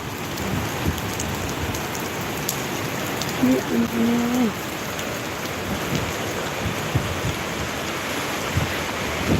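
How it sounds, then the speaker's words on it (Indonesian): Heavy rain falls steadily in Papua in the late afternoon, a dense, loud, continuous hiss of big drops drumming on surfaces, with no voices over it. "Ampunnya hujan besar-besar begini."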